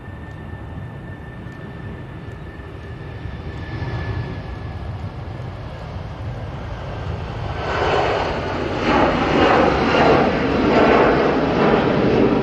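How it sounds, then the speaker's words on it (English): Jet2 Boeing 757 airliner at Manchester Airport, a broad engine roar that builds steadily and grows louder and rougher in the second half as the aircraft draws nearer, with no talk over it. "I can hear a plane. There's a Jet 2."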